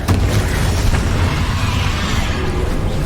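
A Confringo explosive spell blasts during a boss fight against Ranrok in the Final Repository of Hogwarts Legacy, producing a loud, sustained booming roar with a sharp burst at the start.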